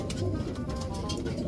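Low, soft cooing of a large pigeon or dove, repeated in a muffled murmur against background noise.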